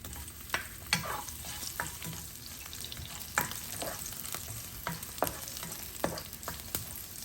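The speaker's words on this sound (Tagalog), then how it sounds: "Kapag mainit na, pwede natin i-saute ang garlic." Garlic sautés in about two tablespoons of hot cooking oil for pork adobo, a steady close sizzle broken by sharp stirring clacks against the pan at irregular intervals, with no voices.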